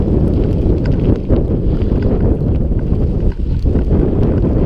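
Strong wind buffets the microphone while a rider travels on a Xiaomi M365 Pro electric scooter at Brighton Racecourse, a constant loud low roar with uneven gusts and no clear talk.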